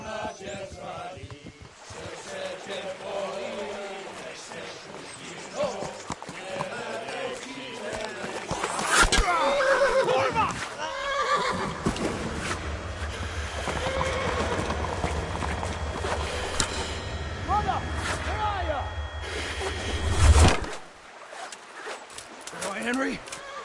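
A horse neighs and gallops in the Kingdom Come: Deliverance video game. Hoofbeats and rustling build to a loud burst near the end, and a low rumble runs beneath them.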